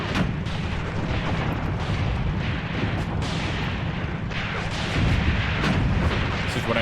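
A StuG assault gun fires in a World War II tank combat game set in North Africa, with heavy booms and continuous battle rumble that stay loud throughout.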